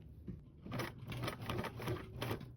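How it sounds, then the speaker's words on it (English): A sewing machine stitches across a line on fabric after the piece has been turned, giving a close, steady run of rapid mechanical clatter in short, regular bursts with no talking. "you're now going to sew across that"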